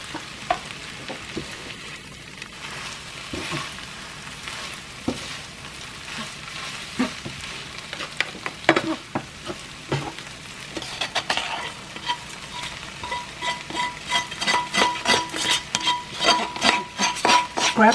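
Pad Thai stirred and tossed in a pan, with repeated scraping and clinking of a utensil against metal over a constant sizzle, the strokes growing faster and louder toward the end, no voices.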